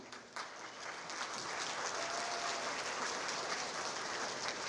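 Audience applause for sixth-grade band students at a school band event, a steady dense wash of many hands clapping that swells quickly and holds loud throughout.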